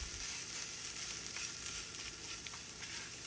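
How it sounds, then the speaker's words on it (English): Grated coconut with turmeric sautés in a pan, giving a soft, continuous sizzle with light crackles and no voices. "And just to saute a little bit"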